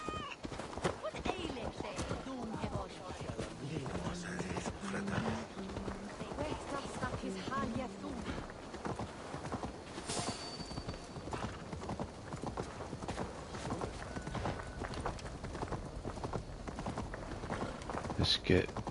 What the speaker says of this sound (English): Get my horse for this one, I think.